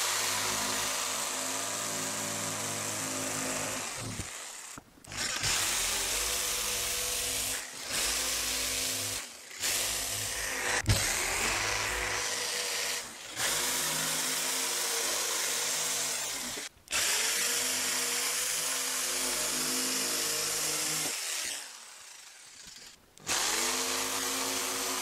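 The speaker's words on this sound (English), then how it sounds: "So now what I need to do is get my jigsaw," A jigsaw cuts out a bench seat cushion template in loud, sustained buzzing runs, broken by several brief stops and restarts, with no talking.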